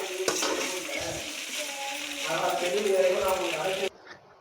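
Chicken pasta is stirred and mixed in a pan, giving a soft, steady scraping and sizzling for about four seconds before it cuts off abruptly, with a voice or background sound faintly underneath.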